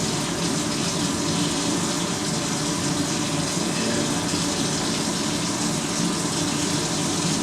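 Water trickling and splashing steadily onto a chicken pot pie in a cast iron skillet, a continuous close, broadband pouring sound with no pauses.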